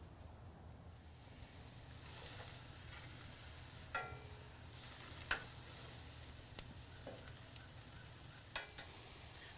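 Russian-style shish kebab (shashlik) sizzling on a grill over a hot fire, heard as a quiet, steady sizzle with occasional small crackles and pops.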